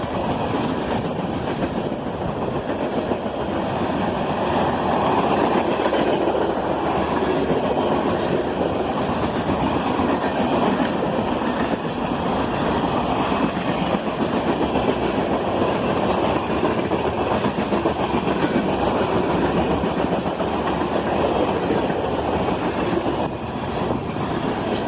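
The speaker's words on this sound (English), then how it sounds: "And the end of the train is in sight." A long freight train with an SD70MAC locomotive rolls past close by, its railcars producing a steady, loud rumble and rhythmic clickety-clack of wheels on rail joints that continues without pause.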